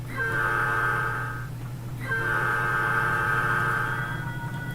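A locomotive horn in the Trainz railway simulator sounds two long, steady chord blasts separated by a short gap, loud and sustained over a low rumble, with no voices.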